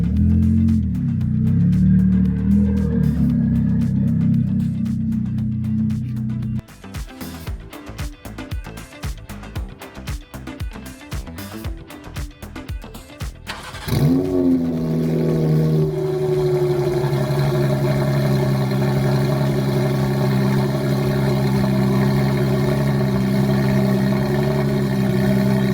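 A Porsche 992 GT3 or Corvette C8 Z06 sports car exhaust, with a loud steady engine note, a choppy stretch of sharp revving bursts in the middle, then a strong sustained rev that settles into a droning hold.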